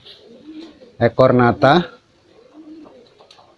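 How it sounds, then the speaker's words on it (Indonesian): A small female Gresik rambon bird, thick-feathered and held in one hand, gives a short run of close, loud cooing notes, with someone speaking around them. "tapi burung ini kecil, ini cuma 1 genggam ini full ya pegangannya ya"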